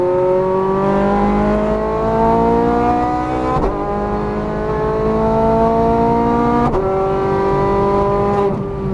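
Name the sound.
Ferrari F430 Scuderia engine accelerating on race track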